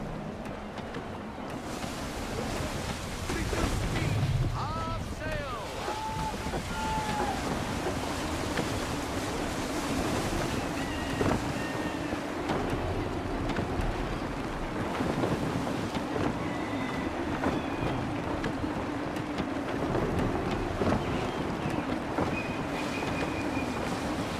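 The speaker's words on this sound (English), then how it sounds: "Wind looks to be shifting. Stay alert, Connor. Gusty winds can be difficult to manage." Gusty wind rushes steadily over open sea while a sailing ship moves through the water in Assassin's Creed III, with surf and waves washing underneath and faint higher tones drifting in and out.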